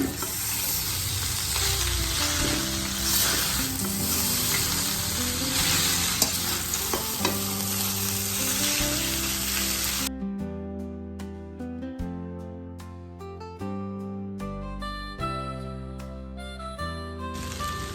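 Hakka noodles being tossed and stirred with black pepper in a hot frying pan, a steady sizzle with scraping and stirring clatter, loud and close, with no talking.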